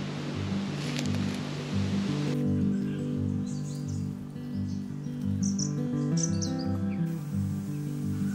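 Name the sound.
birds calling, scarlet robins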